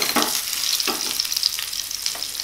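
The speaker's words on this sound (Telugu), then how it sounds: "ఈ ఆవాలు కొంచెం చిట్పటా అనివ్వండి." Mustard seeds spluttering in hot oil in a pan, an even close-up sizzle with scattered sharp pops and crackles, no voices.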